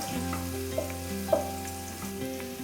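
Green chillies sauté in a pan for chicken stew, giving a close, steady sizzle with a couple of sharp stirring clicks and some tonal background hum, without talk.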